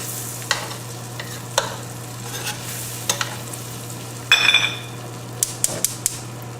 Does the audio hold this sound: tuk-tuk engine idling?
no